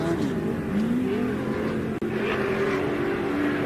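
Short course off-road race trucks roar past on a dirt track, their engines droning with rising and falling pitch and a steady mid-distance rumble, with a brief dropout midway.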